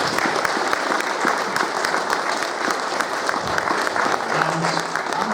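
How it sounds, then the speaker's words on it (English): Audience applause at a retro gaming expo in Blackpool, steady dense clapping from a crowd filling the hall at constant loudness throughout. "give Roland a round of applause"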